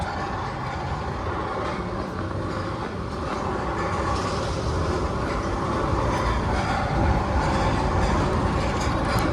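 A steady, loud mechanical clatter and rumble of the Magnum roller coaster chain lift at Cedar Point clicking as it hauls cars uphill, continuous throughout.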